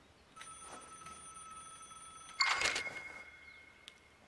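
A telephone rings in the video game VIGOR, with a thin electronic trill at first and then a louder burst of ringing in the second half, over a quiet background.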